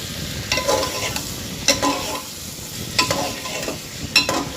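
A spoon stirs chicken curry in a pan over a steady background sizzle, scraping in several separate sweeps spaced about a second apart, close and clear with no voices.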